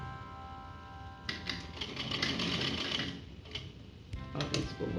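A sewing machine stitches fabric for printed palazzo trousers in close, loud whirring runs. Each run lasts a second or two and is broken by brief pauses, with no talking.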